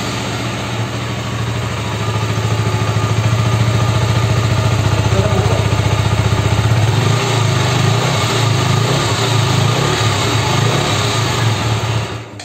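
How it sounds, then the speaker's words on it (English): A 2021 KTM Duke 125 motorcycle exhaust idles close by with a steady throbbing putter, rising slightly in pitch partway through, no voices. "Now let us hear the exhaust."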